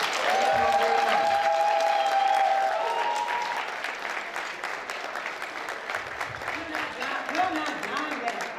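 Loud audience applause at an awards show, with cheering and a whistle early on, gradually thinning into scattered clapping and murmuring voices.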